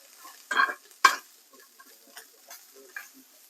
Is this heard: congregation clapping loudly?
no